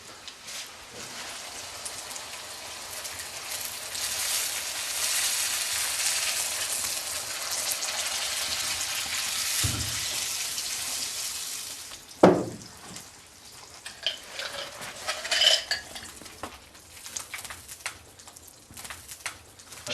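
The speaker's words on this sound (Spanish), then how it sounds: "El siguiente paso va a ser incorporar el agua y rápidamente los caracoles para poderlos engañar" Water and live snails poured into a hot cooking pot: a long, loud, steady sizzling hiss like heavy rain, then a sharp splash and clatter, with scattered crackles and pops as the hiss settles.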